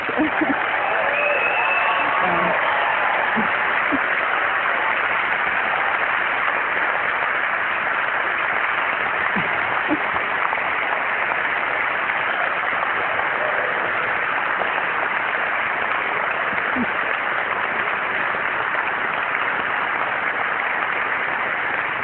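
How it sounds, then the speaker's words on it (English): A technology talk audience claps for a student, a steady, dense wash of applause lasting over twenty seconds, broad and unbroken, with occasional faint voices beneath it. "He does deserve a lot of applause"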